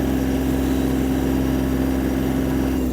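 A Yanmar AF-22 Japanese mini tractor runs at full throttle and top speed, its engine holding a steady, loud drone with a strong low hum, continuous and unbroken with no talk over it.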